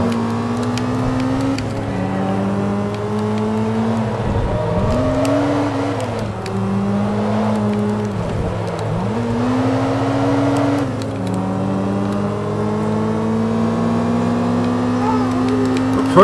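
A 2003 Toyota APR Performance Celica GTS race car in Forza 2 drones loudly throughout, its engine note repeatedly climbing and dipping as it revs between shifts, with a steady low hum underneath.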